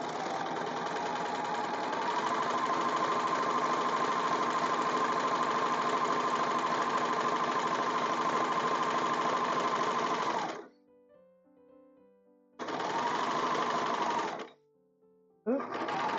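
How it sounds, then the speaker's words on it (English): A serger runs fast through fabric in a long continuous whirring burst of about ten seconds, stops, then restarts for two shorter bursts, close and loud, with quiet mechanical clicks in the gaps. "The last chunk, anyway, with the serger."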